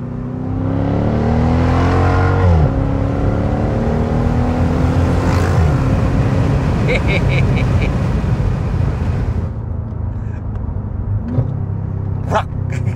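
A Mercedes SLK 55 AMG V8 revs hard with open rear window, a loud deep rumbling roar building and surging for several seconds before dropping back, with short blips near the end.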